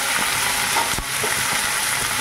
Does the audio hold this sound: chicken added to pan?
yes